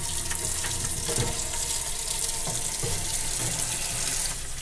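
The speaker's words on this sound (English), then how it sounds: "first I'm going to add a little bit of water here" Tap water pours steadily over crabs being washed in a kitchen sink before they are cooked as tempura. The rushing flow sounds close and continuous, with faint splashes and knocks under it and no talking.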